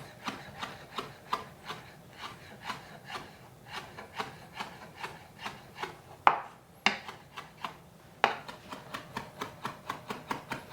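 A knife taps rhythmically on a wooden board, finely chopping salad vegetables with quick even chops repeating close by, with a couple of louder knocks partway through.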